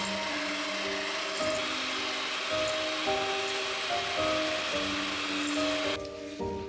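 An electric mixer beats softened butter at low speed for a vanilla cake, giving a steady, close motor whir with a shifting tonal hum and no talk.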